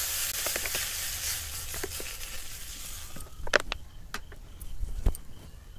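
Rice flour batter for chita pitha hits an oiled pan with a steady broadband sizzle and hiss. It gives way to scattered crackles and pops, close and moderately loud.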